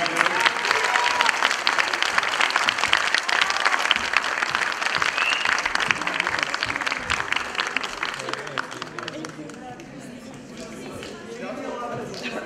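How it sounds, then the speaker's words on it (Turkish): Sustained applause from a crowd at a university conservatory graduation ceremony honoring folk dance graduates, dense clapping that fades toward the end, with a voice speaking faintly over it. "Bir alkış rica ediyorum."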